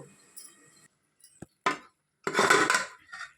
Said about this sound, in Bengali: এখন আমি পাঁচ মিনিটের মতো ঢাকনা দিয়ে ঢেকে দেব